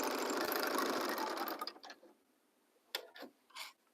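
A sewing machine stitches a garment seam, first in a dense fast mechanical whir for about a second and a half, then tapering off into a few short separate bursts of stitching, close by.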